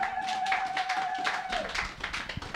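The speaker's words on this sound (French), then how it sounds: "Acclamons très fort pour la gloire de Jésus." Church congregation clapping loudly together in a quick, fairly even rhythm during worship, close and sustained, with a voice briefly heard over the clapping.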